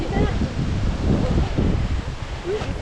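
Strong wind gusts steadily across a mossy mountain forest trail at about 2,110 metres on Gunung Irau, a broad, continuous roar with leaf rustle and buffeting on the microphone.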